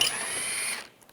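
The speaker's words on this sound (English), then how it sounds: "this is a 8mm socket I'm going to use to take this one out" A hand ratchet with an 8mm socket clicks briefly while loosening a grille bolt on a 2013-2016 Dodge Dart, a short close burst of rapid ratcheting that stops within a second.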